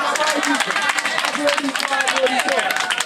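An audience claps in dense, irregular bursts of applause, hands striking rapidly and close, with murmured voices and babble mixed beneath the clapping.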